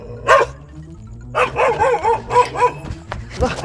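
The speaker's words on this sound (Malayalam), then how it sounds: "ആ പട്ടി കടിക്കും" A dog barks nearby: one loud bark, a pause, then a quick run of several barks and a final yelp, with faint background noise.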